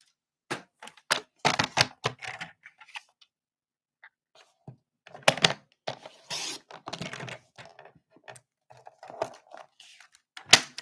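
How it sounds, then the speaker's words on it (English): Patterned paper trimmed down by a quarter inch, heard as scattered, close crisp cutting and scraping strokes in uneven clusters with quiet gaps between them. "We're going to trim this down by,"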